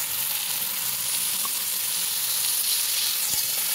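Ginger, garlic, onion, chili powder and turmeric sizzling in a hot pan, a steady close hiss of frying with a faint clink near the end.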